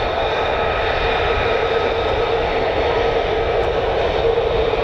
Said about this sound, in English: finally the other F-35s are taxiing now.